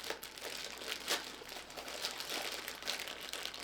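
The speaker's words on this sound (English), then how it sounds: "So let's get the plastic off of this." Plastic wrapping crinkles and rustles as it is pulled off a Neewer MS60B LED video light, a steady close crumpling with brief louder crackles throughout and no talk.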